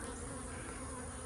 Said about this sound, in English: Look at the bees.